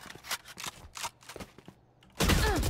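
Rapid bursts of the Phantom gun fire in a shooting video game, a string of sharp cracks in quick succession, followed by a louder dense blast of game sound near the end.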